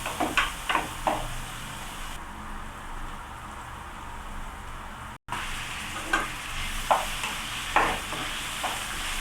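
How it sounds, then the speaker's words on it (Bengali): Onion, garlic and green chili sizzle steadily in a hot pan for a chicken vegetable curry, with a utensil stirring and scraping in short bursts over a continuous frying hiss; a brief dropout breaks the sound midway. "ফ্রাই হচ্ছে।"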